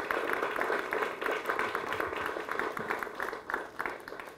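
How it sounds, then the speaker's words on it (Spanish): An audience at the inauguration of a new school wing at Instituto Nacional de Ciudad Arce claps for the teachers, a steady crowd-wide patter that fades slightly toward the end, with faint voices underneath. "un aplauso muy fuerte para los profesores"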